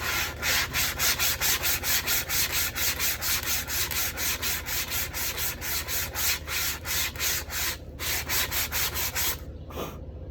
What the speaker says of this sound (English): These square panels are cut at Home Depot, and they just need a good sand on the edges.